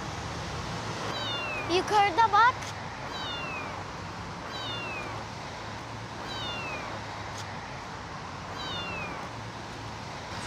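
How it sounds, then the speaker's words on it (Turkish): A cat meows several times in short, rising and falling calls spread across the scene, heard close by over a steady background hum, while a person briefly speaks. "Nerede miyavlıyor bu?"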